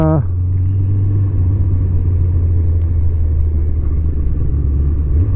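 A Kawasaki ZZR 1100 motorcycle engine, troubled after a hydrostatic lock, drones in a steady low rumble at constant throttle on a skyway ride, with a voice over it.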